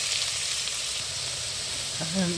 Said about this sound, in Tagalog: atin munang gigisahin yung bawang at sibuyas